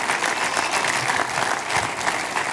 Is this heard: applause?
yes